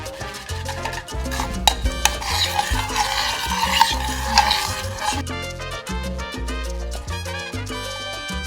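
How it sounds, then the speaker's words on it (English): A spoon stirs Indian burrito filling in a pan over low heat, making soft scraping and rubbing sounds under prominent background music. "I'll just occasionally stir it a little bit."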